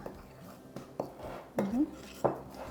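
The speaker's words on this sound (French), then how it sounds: "Mélanger le tout avec une cuillère." A spoon clinks and scrapes against a bowl while mixing a spiced coffee marinade for chicken, with a few sharp taps spaced through the short stretch at close range and low volume.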